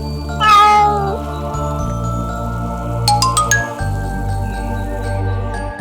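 A cartoon kitten lets out a single drawn-out, sad meow near the start, followed by light tinkling chimes over a steady soft musical background.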